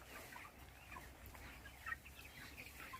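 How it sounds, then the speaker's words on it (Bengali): Chickens on a poultry farm cluck faintly and continuously in the background, with a few brief louder calls and no speech. "এটা হচ্ছে পোলট্রি মুরগির ফার্ম।"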